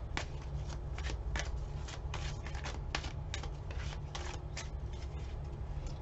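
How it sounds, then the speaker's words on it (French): Tarot cards being shuffled near the mic, a continuous soft riffling and flapping with quick rhythmic bursts throughout, alone without talk. "Attendez, je vais tirer une autre carte"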